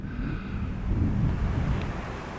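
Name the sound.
wind blowing on cliff tops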